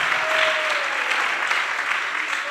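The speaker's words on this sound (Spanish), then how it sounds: "Démosle un aplauso a ese Dios que nos renueva como el águila." A church congregation claps steadily throughout, a dense, even wash of applause with a brief tonal whistle-like note riding over it early on.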